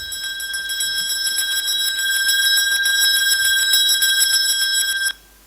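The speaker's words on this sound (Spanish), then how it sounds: "también sonaron otras campanas por toda la casa." Several bells ring together continuously with bright, sustained metallic tones, loud and close, then stop abruptly near the end.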